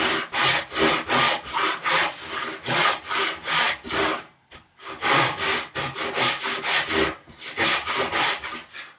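A hand saw cuts a tenon cheek in wood with rhythmic back-and-forth rasping strokes, close and loud, pausing briefly midway before the steady sawing resumes.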